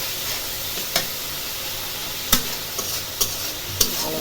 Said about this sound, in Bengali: মশলা চিংড়ি মাছ দিয়ে মশলাটা কষালাম, চিংড়ি মাছ দিয়ে দিচ্ছি